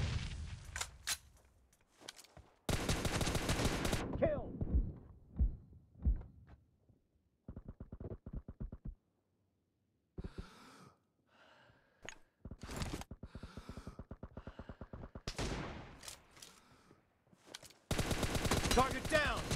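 Gunfire from a PUBG Mobile team deathmatch, with loud bursts of rapid automatic shots alternating with single cracks and short quiet gaps, plus scattered game effects throughout.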